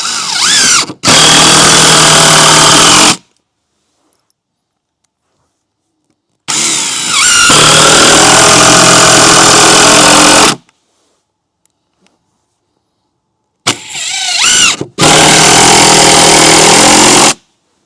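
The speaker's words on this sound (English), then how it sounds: "So, let's get these screws in here." A power drill drives screws into the wooden frame of a chicken run: three loud, close whirring bursts of a few seconds each, separated by silent gaps.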